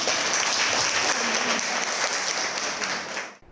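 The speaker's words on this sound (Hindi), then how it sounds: "एक जोरदार ताली इनके लिए।" An audience claps loudly and continuously after a bhangra dance performance, a thick wash of applause that holds steady, then quickly fades out at the end.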